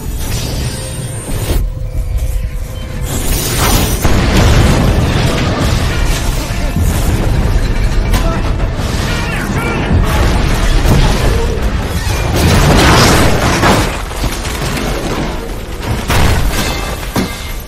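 A gas line explosion in an action film erupts as a massive, sustained roar of booming blasts and crashing debris, loud and dense across the whole stretch, with occasional voices buried beneath.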